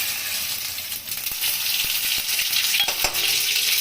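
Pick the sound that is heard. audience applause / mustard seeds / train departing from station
mustard seeds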